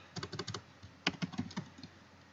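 Computer keyboard typing while entering a page title on a basic website, two close bursts of crisp rapid keystrokes separated by a brief pause, with no talking.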